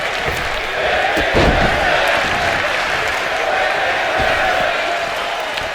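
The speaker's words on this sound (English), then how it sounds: "You hear the crowd that's saying, "This is wrestling."" A crowd at a Chippy Wrecker pro-wrestling show in Chicago chants and cheers in a continuous roar, with a thud from the ring breaking through early on.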